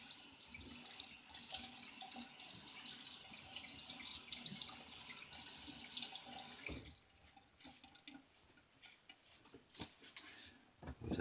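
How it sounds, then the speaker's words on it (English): Tap water runs steadily into a sink for about seven seconds, a close, hissing stream, then stops, leaving quieter drips and small clinks. "Let me get some water."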